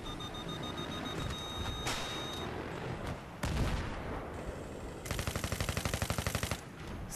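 Heavy gunfire in the Battlefield video game on an armored battle map: scattered loud shots and blasts, then a sustained rapid machine-gun burst, all over a constant rumble of combat noise.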